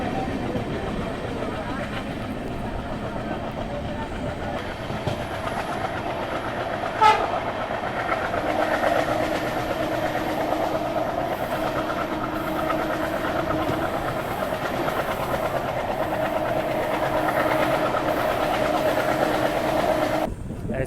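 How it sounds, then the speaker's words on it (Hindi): A passenger train running on a railway line in Bihar, a loud steady rumble with rhythmic wheel clatter and a brief horn partway through, heard from on board for the whole stretch. "हमारी ट्रेन यहाँ से निकल चुकी है झंझारपुर की तरफ"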